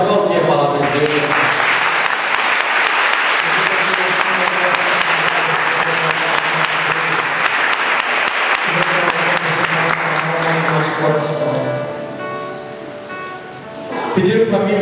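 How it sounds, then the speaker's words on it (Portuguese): A church congregation applauds steadily and loudly for about eleven seconds. Music plays underneath, then the clapping thins out and fades. "Quero convidar você a aplaudir a palavra de Deus."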